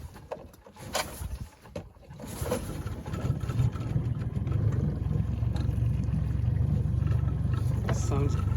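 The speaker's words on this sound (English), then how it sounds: "starting the motor again" An outboard boat motor, idle for seven years, is primed and started at a port on Hall Lake. People talk briefly at first, then a steady low engine rumble builds and holds, close and fairly loud.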